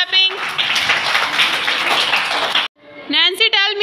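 A class of young schoolchildren claps together in a quick burst of dense applause lasting a couple of seconds, followed by children's voices speaking.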